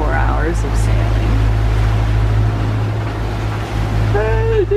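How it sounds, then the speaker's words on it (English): A sailboat crossing the Atlantic under engine power gives a steady low droning motor hum with wash and wind noise over it. A person speaks briefly at the start and again near the end. "We are motoring now."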